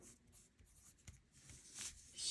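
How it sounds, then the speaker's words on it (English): A mechanical pencil scratches softly across paper in short, faint strokes, close up and quiet, with a slightly louder scribble at the end. "Oh, such a pleasure to write"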